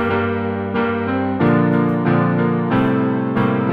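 Sustained piano-like notes and chords change every second or so within a full, layered musical backdrop, with no voices.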